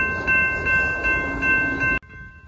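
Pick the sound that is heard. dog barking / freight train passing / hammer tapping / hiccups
freight train passing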